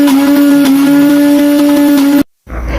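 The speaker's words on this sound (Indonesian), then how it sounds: "Dan untuk bumbu basahnya digiling pakai gelas yang ini ya moms." An electric spice grinder runs steadily while grinding a wet spice paste, giving a loud, even motor whine with a strong steady hum. It cuts off abruptly near the end, then brief low rumbling follows.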